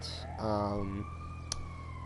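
A video game ambulance siren rises and sweeps in pitch through the whole clip, close and clear, briefly overlapped by a voice with a sharp click near the end.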